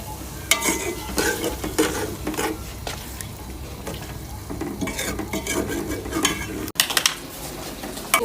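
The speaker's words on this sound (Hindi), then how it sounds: "इसे भूनेंगे अच्छी तरह।" Chicken mixed with yogurt fries and is stirred in a pot, with loud close sizzling and repeated scraping and clinking of a spoon against metal, plus one sharp knock near the end.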